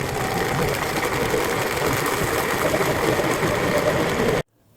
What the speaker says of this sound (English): For the heart, you need a very powerful blender and add a little bit of water to the bottom.